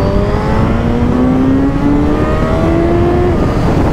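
A Suzuki GSX-S 1000 World Edition motorcycle engine revs up under throttle, its rising, sweeping tone loud and close over steady road and wind noise, with two climbing pitch sweeps and no talk.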